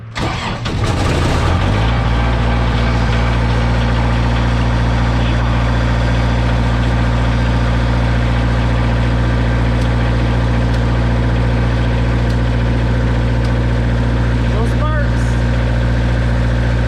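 A large diesel generator, an auction buy being repaired, cranks on a cold day and settles into a loud, steady, low rumbling idle close by, with a faint brief metallic sound near the end.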